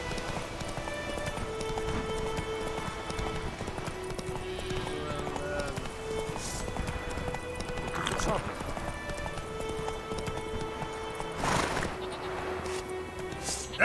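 The horse Roach gallops in The Witcher 3, steady clip-clop hoofbeats running throughout over a game soundscape with occasional louder accents.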